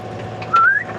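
A single rising whistled tone, a weak attempt by someone who can barely whistle, held for about a quarter second and sliding upward in pitch, close and fairly clear over a quiet room.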